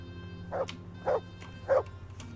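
A dog in the medieval role-playing game Kingdom Come: Deliverance gives three evenly spaced, moderately loud barks over a steady ambient game hum.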